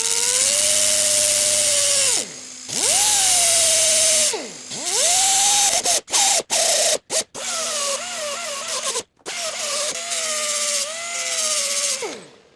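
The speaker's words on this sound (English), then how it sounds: "we can use this drill to spin this like a little mini lathe" A power drill whines loudly while spinning a sanding disc against a metal workbench leveling foot, its pitch dipping and rising under load, with several brief stops and restarts.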